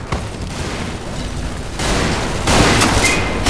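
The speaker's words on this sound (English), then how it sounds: "We both got shot!" Video game gunfire that hits two players, a loud, continuous roar of rapid shots and blasts that swells and intensifies toward the end, with no talking.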